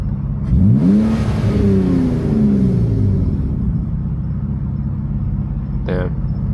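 BMW E46 drifting in the rain, a loud close engine rising in a swooping rev then settling into a droning rumble, with a brief high chirp near the end and voices around it.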